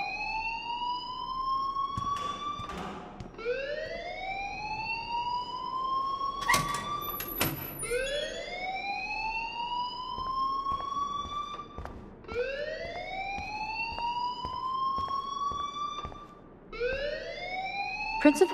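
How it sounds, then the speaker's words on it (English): Fire alarm blaring in the video game Life is Strange, a loud repeating electronic whoop that sweeps upward again and again, steady and close, with a few brief knocks and voices beneath it. "please turn off that alarm since that's your job"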